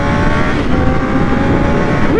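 A Yamaha R9 motorcycle engine running loud and close with a steady, dense roar, held at high revs while the anti-stall works, with no clear breaks and no talking.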